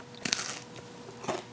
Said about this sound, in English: I'm just gonna take a bite out of it so you can hopefully hear that it's crunchy